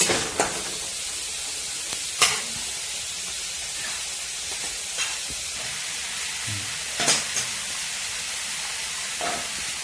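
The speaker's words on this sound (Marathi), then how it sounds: "कांदा सुपर परतून आपण चांगला लाल लाल करून घेऊ याला" Onion frying in a pan for kanda poha: a soft, steady sizzle runs under a few sharp utensil clicks and scrapes spaced irregularly through the clip, close and moderately quiet.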